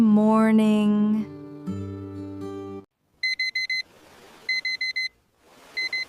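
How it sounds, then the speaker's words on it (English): Starting with a sung jingle, then an alarm clock rings in repeated bursts of rapid, piercing high beeps, three clusters separated by short pauses. "My alarm is ringing."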